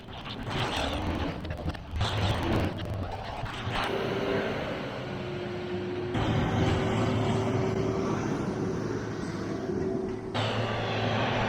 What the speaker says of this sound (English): Jet just starting to heat up a little bit